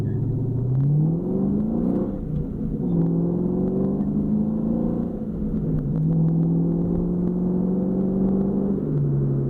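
A car engine revving at half throttle or less, loud and close, its pitch climbing and falling in repeated sweeps as it pulls through the gears, with no talking.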